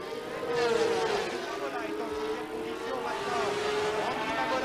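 1988 500cc Grand Prix motorcycles accelerate out of the corners at Paul Ricard, a continuous high, wailing engine note that climbs and sags as a pack of bikes rides past, loud and sustained throughout.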